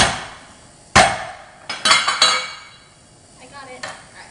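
A knife chops through a hard acorn squash on a cutting board, giving several loud, sharp knocking thuds in a short burst with quieter clinks between, close by and without talk.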